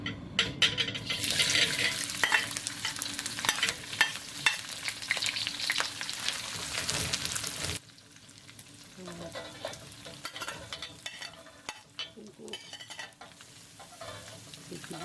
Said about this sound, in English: Stir-fry the previously prepared plate with cut-up ingredients with some oil in a wok.